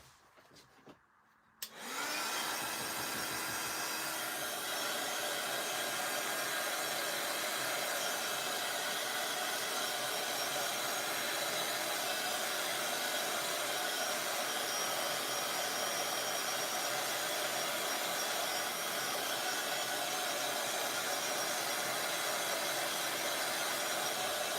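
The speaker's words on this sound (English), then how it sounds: "I'm going to give this a quick blast with my heat gun" A heat gun blasts air over a spritzed cardmaking project, starting abruptly after a brief quiet moment and then roaring steadily and loudly, close up, for over twenty seconds without a break.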